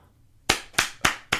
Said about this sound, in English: Clap in the studio, everyone.